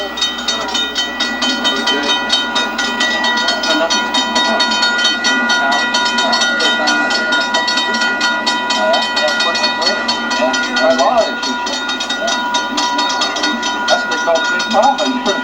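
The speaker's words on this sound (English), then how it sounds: "this train steaming through an American community" A heavy train rolls through an American community, a loud, continuous rumble with rhythmic clickety-clack of wheels on rails holding steady for about fifteen seconds.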